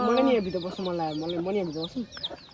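A hen close by gives a string of drawn-out, wavering clucks and murmurs, closely spaced and moderately quiet, fading into short sputters at the end.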